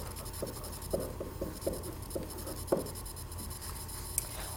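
A pencil scratches across paper in short, rhythmic strokes, close and fairly soft, with small taps as the lead lifts and lands, and no talking.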